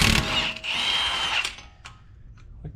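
A power tool buzzes in a short loud close burst while removing the axle hub nut on an Audi A4, then cuts out, leaving faint clicks and rattles.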